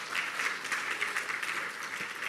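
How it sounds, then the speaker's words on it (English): Conference audience applauding the panelists, a brief, even patter of many clapping hands, moderately loud and steady throughout the short burst. "Can we give our panelists another round of applause?"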